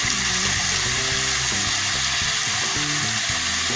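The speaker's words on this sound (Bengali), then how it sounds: "এবার মশলাটাকে খুব ভালো করে কষিয়ে নেব।" Crab curry spice masala sizzling and frying in a pan, a steady dense crackle running continuously at close range with no voices.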